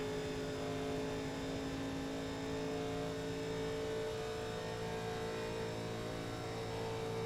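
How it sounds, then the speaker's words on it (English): A NASCAR stock car engine in iRacing at Talladega bouncing off the rev limiter, a steady, sustained high-pitched drone held at constant revs throughout, with no talk over it. "Found the rev limiter."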